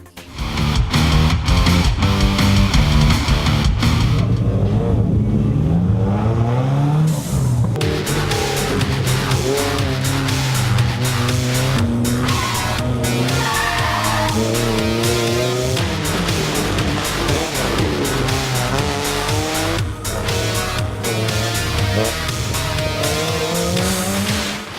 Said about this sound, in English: the air reverberates with the sound of engines revving and tires squealing